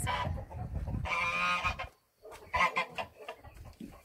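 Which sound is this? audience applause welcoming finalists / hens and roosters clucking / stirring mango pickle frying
hens and roosters clucking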